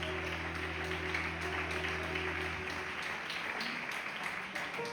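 A church congregation gives a loud, sustained round of applause that continues steadily for several seconds, with a low hum of music and little speech.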